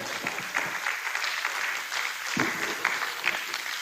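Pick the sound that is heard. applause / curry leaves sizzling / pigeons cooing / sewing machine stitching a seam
applause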